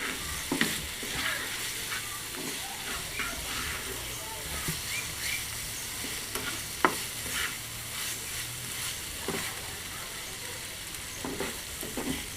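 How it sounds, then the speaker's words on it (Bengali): Potatoes with chopped coriander leaves and green chilli being stirred in a hot wok: a steady sizzle runs under repeated scraping strokes of the spoon, with one sharper knock partway through. "নেড়ে চেড়ে দিচ্ছি।"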